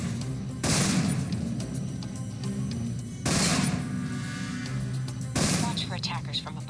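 Assault rifle fire in Alpha Protocol comes in three loud bursts a couple of seconds apart, with combat noise and a low voice between them.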